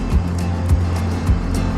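An enduro motorcycle rides a trail along a small ghat stretch before Lonavala, its engine droning steadily up close with rhythmic thumping pulses roughly every half second.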